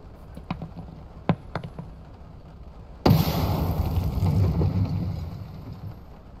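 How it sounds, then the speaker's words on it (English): A few scattered taps and pops give way to a sudden loud grenade blast in a video game, its rumbling, hissing roar lingering for a couple of seconds before easing off. "He just threw a grenade in."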